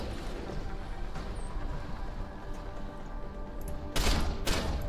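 Gunfire with bullets ricocheting in the video game Deus Ex: Human Revolution, a steady rattling background of shots with two sharp, loud bursts near the end.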